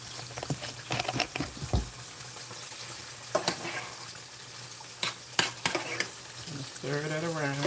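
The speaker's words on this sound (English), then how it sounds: "Stir that around." Ingredients stirred around a sizzling frying pan with irregular utensil scrapes and clinks, a steady fry hiss underneath, and a brief bubbling gurgle near the end.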